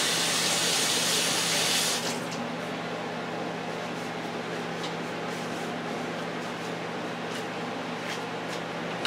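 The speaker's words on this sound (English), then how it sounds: "Wash my hands." A kitchen tap runs steadily while hands are washed, a loud, close hiss of water for about two seconds that then drops to a softer, continuous trickle and spatter.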